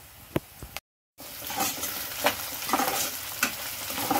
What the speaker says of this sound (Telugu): ఇవన్నీ ఉల్లిపాయలు బాగా వేగినాయి కదండి.